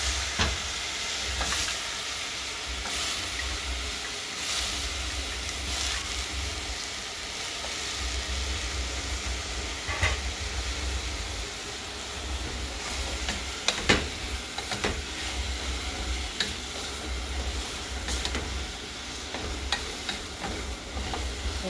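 Fresh beans sizzle steadily in a hot pan, the frying hiss continuous and fairly loud throughout, with scraping stir strokes and a few sharper clinks of the utensil against the pan near the midpoint.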